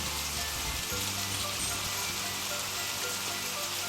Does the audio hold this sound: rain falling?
yes